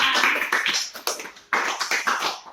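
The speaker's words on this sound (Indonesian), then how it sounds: "Ayo tepuk tangan buat kita semua." Children at a tooth-brushing health lesson clap together in a few loud, bunched bursts of rhythmic hand-claps, close by and with no talking.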